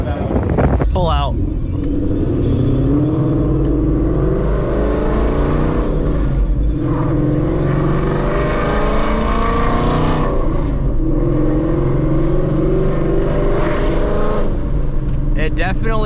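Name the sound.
Ford Mustang S550 exhaust, Corsa X vs Double H pipe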